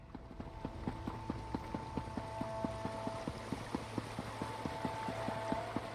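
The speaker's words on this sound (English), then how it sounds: "I love the little foot stomp sounds." A game mount's hooves clip-clop in a steady, quick rhythm through The Elder Scrolls Online's Elsweyr region, close and even, with a low ambient hum beneath and no talking.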